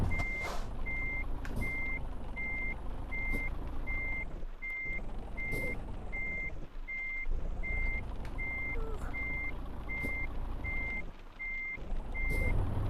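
A Peterbilt 387 truck in Euro Truck Simulator 2 reverses with a trailer, its backup alarm beeping in a steady, evenly spaced rhythm for the whole stretch over a continuous low engine rumble.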